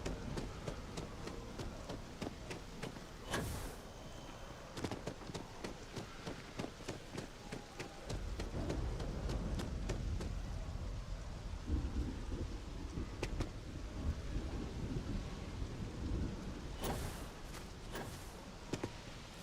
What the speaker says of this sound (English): Oh, look, the storm.